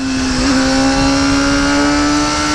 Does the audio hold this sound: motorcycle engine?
yes